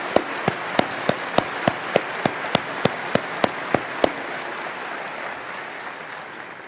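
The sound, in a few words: audience applause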